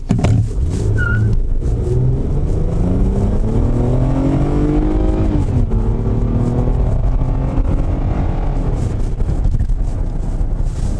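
A 2010 Kia K7 2.7 gasoline sedan, front-wheel drive with a six-speed automatic, revs up steadily as it pulls away from a stop, rising in pitch before a gear change, with wind rushing throughout.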